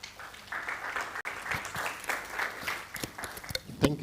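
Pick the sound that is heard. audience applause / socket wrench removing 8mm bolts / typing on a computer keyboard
audience applause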